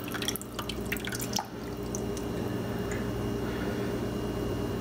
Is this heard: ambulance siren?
no